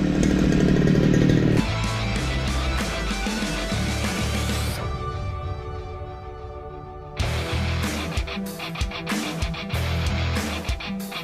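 A grass cutter's small two-stroke engine runs steadily after a spark plug fix, a loud close buzzing drone that dips for a few seconds and then revs back up in uneven bursts.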